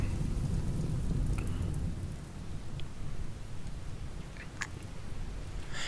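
Rain falls steadily in RimWorld, a dense low wash of patter with a few faint scattered ticks, fairly quiet and easing slightly partway through, with no voices.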